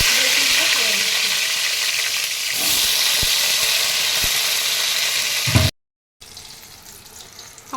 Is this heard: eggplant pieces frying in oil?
yes